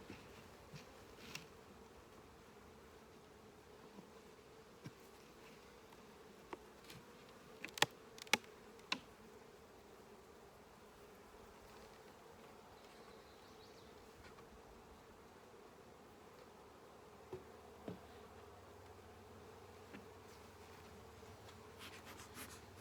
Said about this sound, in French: Une belle journée, les abeilles sont dans un bon mood aujourd'hui.